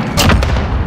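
A grenade goes off in a military shooter game with a single sharp, close blast. It decays quickly into a brief rumbling tail.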